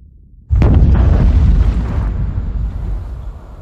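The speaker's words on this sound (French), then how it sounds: "En cas d'explosion nucléaire à Saint-Laurent-des-Eaux." A nuclear explosion sound effect for a blast at the Saint-Laurent-des-Eaux nuclear plant: one sudden loud boom after a moment of quiet, then a heavy rolling rumble that slowly thins out.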